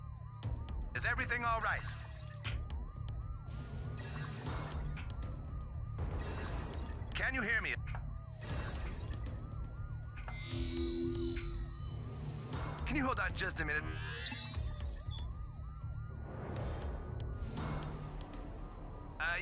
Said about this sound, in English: I can't remember my code to turn off the dang alarm